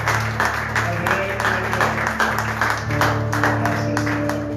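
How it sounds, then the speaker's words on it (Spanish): Church congregation clapping hard during worship, steady applause over sustained music or singing tones. "Si le vas a dar un fuerte ese aplauso, dáselo con todo el corazón."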